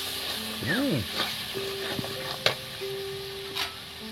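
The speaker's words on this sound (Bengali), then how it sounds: "এবার এই মশলা ধোয়া জলটা দিয়ে দিচ্ছি বন্ধুরা। দেখুন মশলা না যেন পুড়ে যায়।" Spice-washing water poured into frying spices for a sea fish curry, giving a steady sizzle with a few clinks and scrapes and some faint tonal sounds from nearby. There is no talking.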